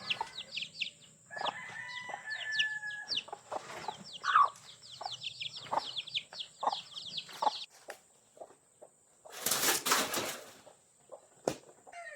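Free-range chickens and a rooster cluck and chirp in an outdoor pen, with busy overlapping calls, a loud burst of squawking near the end and no talking.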